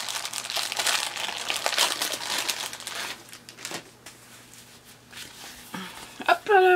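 Plastic wrapping from a Wootbox subscription package crinkles loudly and steadily up close as it is torn open, then fades to quieter rustles, with a person speaking near the end.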